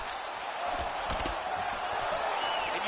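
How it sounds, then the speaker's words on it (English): Video-game crowd in UFC 4 roaring and swelling in reaction to fighters landing strikes, a steady dense wash of arena noise with brief sharper impact bursts, loud and continuous throughout. "you hear the crowd react every time they come together"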